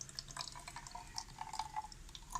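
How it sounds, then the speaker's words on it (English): Distilled water poured into a small bottle while making a homemade hair serum, a quiet steady trickle with light dripping and splashing throughout. "So add the distilled water"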